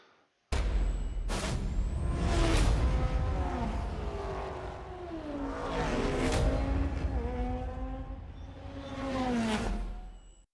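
A Subaru Levorg GT races around the Nürburgring in Forza Motorsport, its engine revving and rising through gears with sweeping pitch shifts, a sharp start and passing whooshes, loud and close.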